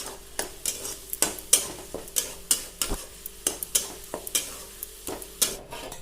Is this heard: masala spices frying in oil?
yes